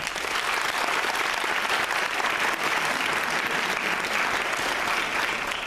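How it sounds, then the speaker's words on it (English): Audience applause for students at a Christiansburg talent show, a steady, dense wash of many hands clapping at full strength throughout, with no voices breaking through. "Let's give them a round of applause"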